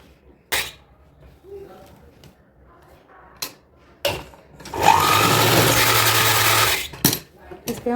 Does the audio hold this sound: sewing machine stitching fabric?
yes